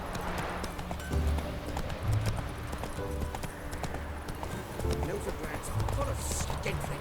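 The horse Roach galloping in The Witcher 3, rhythmic clip-clop hoofbeats pounding steadily and close, with voices speaking over them.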